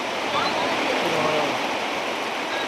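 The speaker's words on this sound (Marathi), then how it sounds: "डोंगरावून तर लय मोठा पूर आलं राव" Floodwater pours down from a mountainside after a night of heavy rain, a steady, loud broadband rush like a stream or small waterfall, close by and continuous, with voices faintly present beneath the torrent.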